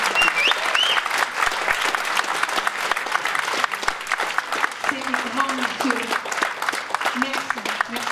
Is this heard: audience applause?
yes